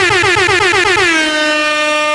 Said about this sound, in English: me let the air horns ring